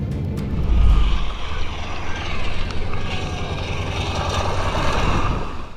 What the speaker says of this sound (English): A United Boeing performing flight from Denver, Colorado to Honolulu, Hawaii, engine inlet separation and failure.